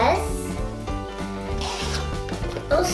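A Smiggle pencil case zipper with a pink zip pull is dragged open with a continuous close-up rasping rattle lasting a few seconds, while a voice talks over it.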